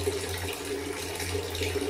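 Water runs in a steady, close stream while a fish tank is rinsed out, a constant splashing flow with no voices.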